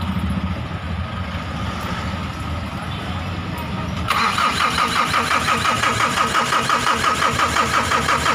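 A Mitsubishi L300 FB van's diesel engine, which has a fuel supply fault, churns through a starting attempt and then catches into a steady, close, rhythmic idle that continues to the end, with people talking nearby.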